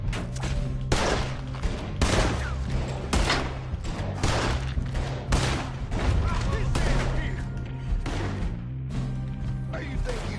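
Gunfire fills a Red Dead Redemption 2 shootout: repeated loud cracks and bursts, irregular and close, with shouting voices mixed in over a busy, dense background.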